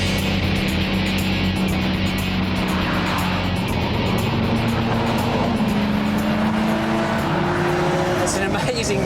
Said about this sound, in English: This is fun to drive on the racetrack.